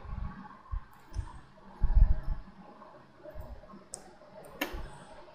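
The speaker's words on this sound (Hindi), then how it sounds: "चलिए मैं एंटर करता हूँ।" A few sharp, isolated clicks come from a computer keyboard as the Enter key is pressed, close and fairly loud against a quiet background with faint low rumbles.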